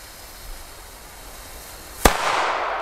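A Nico Rums Bums firecracker goes off with one sharp, loud bang, followed by a lingering crackling hiss over low background noise.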